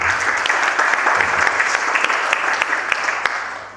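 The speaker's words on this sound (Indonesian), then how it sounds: "Berikan sekali lagi tepuk tangan bagi Tuhan." A church congregation claps steadily and warmly, the applause sustained and fairly loud throughout with no break.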